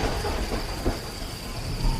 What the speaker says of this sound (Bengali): সেই সময় একবার ভয়ঙ্কর শব্দ করে দূরে একটা তাল গাছের মাথায় বাজ পড়ল।